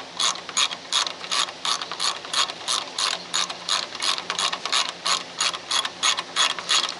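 Rapid ratcheting clicks while a bolt is tightened on the blade guide of a Wood-Mizer LT15 sawmill. The fast, even clicking is steady and close, with no talk over it.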